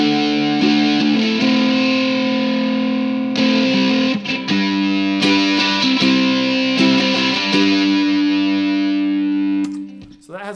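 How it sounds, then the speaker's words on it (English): A ukulele played through an overdrive pedal rings out with thick, sustained, gritty chords, loud and close, with a few strum changes and a sharp cutoff near the end. "So that has a lot more gain. It's an overdrive."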